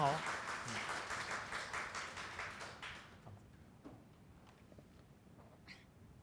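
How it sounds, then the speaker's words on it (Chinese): A church congregation at a Sunday service claps to encourage a nervous woman standing at the front, a brief burst of scattered hand-clapping that fades after a few seconds into a quiet room with light shuffling. "我们拍手鼓励她一下"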